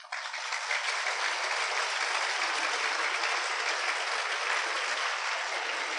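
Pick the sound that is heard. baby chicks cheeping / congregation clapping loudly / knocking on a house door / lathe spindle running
congregation clapping loudly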